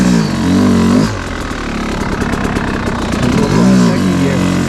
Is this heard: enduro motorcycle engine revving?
yes